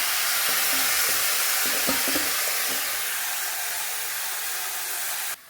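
Vegetables for a small-fish chorchori hit hot oil in a wok and set off a steady, close, broadband sizzle, with a few soft clanks early on before the hiss runs on alone and cuts off abruptly.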